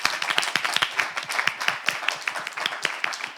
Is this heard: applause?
yes